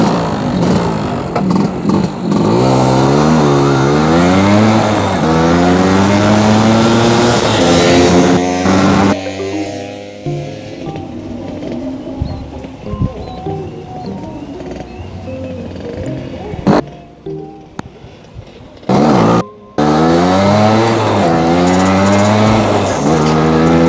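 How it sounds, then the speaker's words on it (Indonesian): A 1989 Vespa PS Strada scooter with a 180cc engine being test ridden: loud, close two-stroke engine revving, rising in pitch through repeated gear changes, then idling down before accelerating hard again. "Vespanya lagi dicoba nih."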